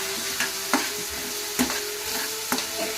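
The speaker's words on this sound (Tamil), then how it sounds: "இப்போ வந்து இது நல்ல ஒரு பொன்னிறம் வர அளவுக்கு ஃப்ரை பண்ணிக்கலாம்." Onion, tomato and curry leaves fry in a pan with a steady close sizzle, broken by several sharp scrapes of stirring.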